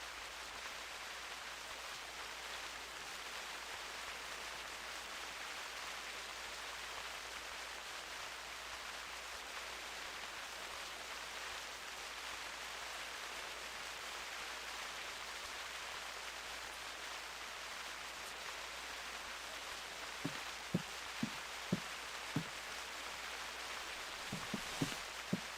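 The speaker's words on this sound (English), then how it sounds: "It's not going to stop raining, is it?" Steady rain hisses across the whole scene in the hunting video game theHunter Classic, a soft even wash with a few faint knocks near the end and no talk.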